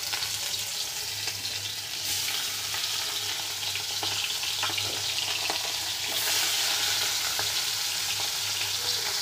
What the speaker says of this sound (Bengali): এগুলো ভাজা হোক মাছ ভাজা হয়ে গেছে এবার নামিয়ে দেব